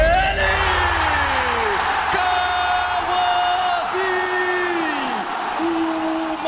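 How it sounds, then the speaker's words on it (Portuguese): A large esports arena crowd at a Valorant LOCKIN match cheers and roars continuously, loud and sustained, with excited commentators shouting over the din. "a torcida gritando e o time comemorando"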